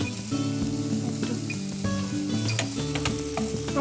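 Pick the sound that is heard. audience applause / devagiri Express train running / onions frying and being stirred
onions frying and being stirred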